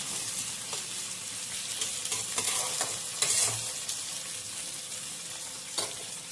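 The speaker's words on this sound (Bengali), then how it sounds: "পেঁয়াজটা ভাজা ভাজা হোক" Sliced onions frying for a mutton curry, a steady close sizzle with soft stirring scrapes and occasional louder spatters, no voices.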